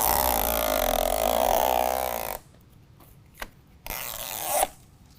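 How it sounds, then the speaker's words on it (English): Adhesive tape protector peeled off an AVS Bugflector II bug shield being fitted to the hood of a 2019 GMC Sierra: a long, steady ripping tear up close, then a pause and a second shorter peel. "Now we can go ahead and push down on the hood and start peeling away our tape protector."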